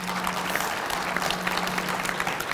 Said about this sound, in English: So give Heather a round of applause.